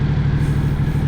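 A Moto Morini adventure motorcycle engine drones steadily under load on the highway, a loud, close, continuous low rumble with no pauses.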